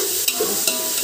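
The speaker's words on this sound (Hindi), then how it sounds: "इसे हमें हाई फ्लेम पर 2 मिनट तक फ्राई करना है।" A ginger, garlic and green chili paste fries in a pan over high flame for biryani, giving a close, steady sizzle with a few soft stirring scrapes.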